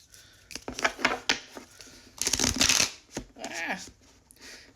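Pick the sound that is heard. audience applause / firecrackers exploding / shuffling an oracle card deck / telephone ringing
shuffling an oracle card deck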